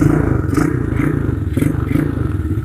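A Rainforest 150cc automatic scooter with a dual exhaust drones steadily and loudly close by as it is test ridden, its low engine rumble continuous with faint rattling over the top.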